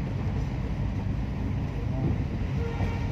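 Trains in a railway yard pass as a steady, dense low rumble that fills the whole stretch, a continuous rolling roar heard from close by with no clear breaks.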